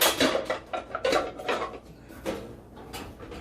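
Metal omelet pans that interlock with each other being handled in a kitchen, giving a series of close, loud clanks and scrapes of metal on metal, with no talk.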